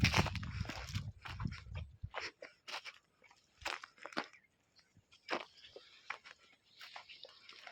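A buffalo for sale on a farm in Aurangabad district chews fodder close by, with steady crunching and grinding bites in an irregular rhythm, loud at the start and quieter afterwards.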